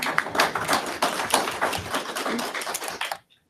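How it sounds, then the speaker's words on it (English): An audience at a city council candidates forum claps steadily for introduced candidates, a brisk patter of many hands that stops abruptly into silence at the end. "We can applaud."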